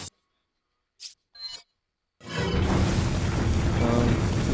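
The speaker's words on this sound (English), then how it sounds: "Put some dynamite in that boulder." Dynamite blows up a boulder in Resident Evil 4, a sudden loud blast that rolls into sustained broad rumbling debris noise, preceded by a couple of short clicks and rustles.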